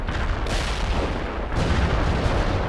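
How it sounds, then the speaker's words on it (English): An artillery barrage in the war game World in Conflict rumbles with heavy, overlapping booms, and the shell blasts roll one into the next in a loud, continuous bombardment with no voices over it. "We'll just kind of walk the artillery towards them"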